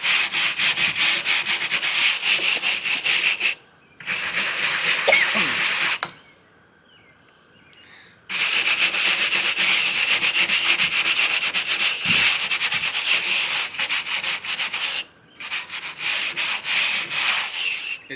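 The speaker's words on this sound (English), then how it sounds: "It's basically just find a spot, scrub it a little bit, get good to go." A surface is scrubbed clean in close, steady rasping strokes, loud and continuous in long bursts separated by a few short pauses, with no talk over it.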